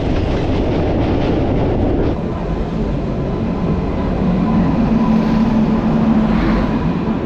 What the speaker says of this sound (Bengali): মাত্রা এক্সপ্রেস দিয়েছে 5 নম্বর প্ল্যাটফর্মে।